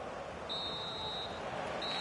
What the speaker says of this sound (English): And on that whistle, the first half comes to an end